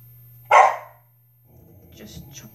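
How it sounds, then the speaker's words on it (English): A puppy gives one sharp, loud bark nearby, then things go quiet before a person starts talking softly. "Sorry about my noisy puppy."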